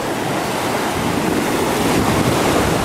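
Steady roar of surf breaking on a beach at Playa del Carmen, continuous and loud with wind noise buffeting the microphone, no voices.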